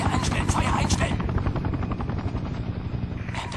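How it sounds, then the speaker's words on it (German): An enemy helicopter in the shooter game Sniper Ghost Warrior 2 thrums loudly with rapid, rhythmic rotor chop and a heavy engine drone, steady throughout with a voice speaking over it. "Feindlicher Heli, Feuer einstellen, Feuer einstellen!"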